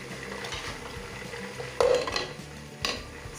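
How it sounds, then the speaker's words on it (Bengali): A spatula drops from the hand into a cooking pan of hot oil with cardamom and bay leaves, giving one sharp clatter over steady frying noise, then a smaller knock a second later. "সরি, আমার হাত থেকে চটাটা পড়ে গিয়েছে।"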